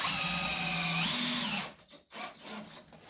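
Power drill driving screws into treated wood for a 45-degree RC ramp: a steady high whine that shifts pitch once and then winds down, close and alone, followed by a few faint knocks.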